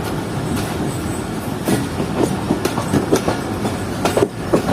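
An express train rolls through the loop line at Bulari railway station past coaches standing on the main line, a close, loud rumble with repeated wheel clicks and brief squeals, no voices.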